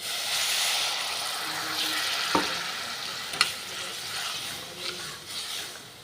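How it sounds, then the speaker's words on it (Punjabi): Water added to spiced masala frying in a pan brings up a continuous sizzling hiss, with a couple of sharp clinks from stirring breaking through the steady bubbling. "ਥੋੜਾ ਜਿਹਾ ਆਪਾਂ ਪਾਣੀ ਐਡ ਕਰ ਦਾਂਗੇ"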